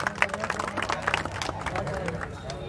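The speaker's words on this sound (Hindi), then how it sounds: "जरा जोरदार जरा ताली तो बजा दो जनता जरा" Crowd at an outdoor wrestling dangal claps in a dense patter, moderately loud, with a voice and chatter underneath and steady background noise.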